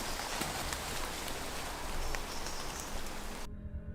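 Rain falls steadily in a forest, a dense close patter with scattered louder drops, cutting off abruptly near the end.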